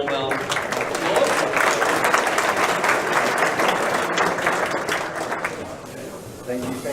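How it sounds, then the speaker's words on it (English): A conference audience applauds a speaker taking the stage for a Bitcoin security talk, with sustained, dense clapping that swells and then tapers, and a voice speaks briefly near the end. "if I get you all to give him a warm round of applause"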